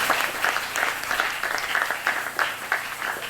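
A church congregation applauding during a Sunday service: dense, fairly close clapping from many hands with a pulsing rhythm of regular surges, about three per second, steady and without talk.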